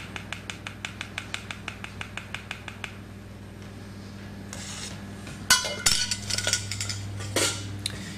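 Chocolate ganache being stirred with an egg and milk mixture for a chocolate tart, a whisk tapping a bowl in a quick steady rhythm, followed by scraping and clinking utensil sounds.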